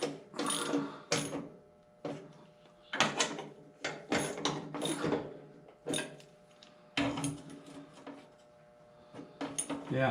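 A bolt being tightened on a tractor with a ratchet wrench, giving repeated bursts of clicking strokes with short pauses between them, close and fairly loud.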